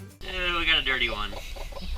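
A mother hen gives a run of close, throaty clucks and a drawn-out brooding call, loud and alone with no talk.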